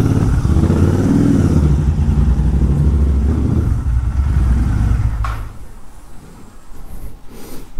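Royal Enfield Continental GT 650 motorcycle on the move, a loud steady engine rumble up close that drops away after about five seconds to a quieter idle-like hum.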